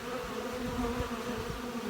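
Honey bees buzzing at a hive, a close steady drone with a few louder swells as individual bees pass near.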